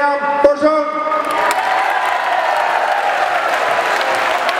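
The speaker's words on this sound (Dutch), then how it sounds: "een applaus voor Bert en Kim" Crowd applause for Bert and Kim at a live Dutch event, steady dense clapping that swells and holds at close range, with a voice briefly heard at the start.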